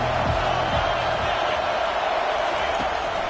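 Steady crowd roar from a college football video game, Florida against Penn State, with the stadium crowd loud and continuous as a game commentator talks over it.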